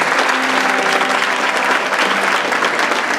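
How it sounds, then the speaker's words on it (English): Loud, sustained applause from a large crowd, steady clapping throughout with no pause. "give a round of applause for everybody that's been here"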